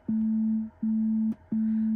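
A phone tone inside a Tesla car repeats three times in steady, even beeps, each one clear and close with short gaps of quiet between.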